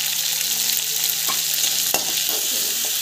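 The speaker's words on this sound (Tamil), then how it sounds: "நல்லா வதங்கிட்டேன்." Chana dal with turmeric sizzles loudly and steadily as it is sautéed in a pan. A few distinct stirring knocks and scrapes sound close up over the constant frying hiss.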